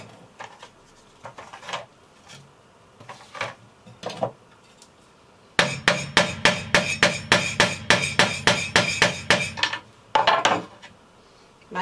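A scriber point is hammered into soft wood to make a hole: a quick, regular string of sharp, ringing metallic taps close by, following a few scattered lighter knocks, with no talking.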